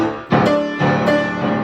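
Piano passage from an arrangement of a song played with the sustain pedal held early, so notes smear together; two loud struck chords ring out close, each blurring into a wash of overlapping tones.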